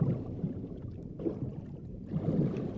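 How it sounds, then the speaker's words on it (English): Underwater swimming in the video game Call of the Sea, a soft murky wash of low muffled water movement with gentle surges and strokes, steady and fairly faint throughout. "Part of what you're hearing is my swimming."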